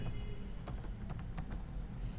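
Keys tapped on a computer keyboard while entering a name into billing software: a dozen or so light, irregular clicks close by over a steady low background hum, no talk.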